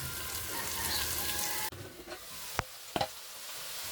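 Taro pieces with ginger-garlic paste fry in a pan, a broad sizzle that drops off abruptly, then quieter hissing with a couple of sharp utensil taps, no talking.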